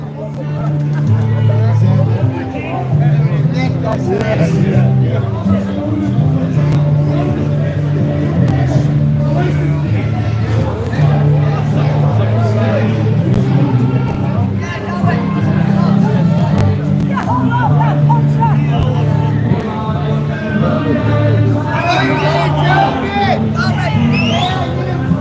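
Crowd chatter fills a Dublin city street near the Garden of Remembrance, a steady close babble of many voices with brief louder swells, and a few nearby voices talk over it throughout.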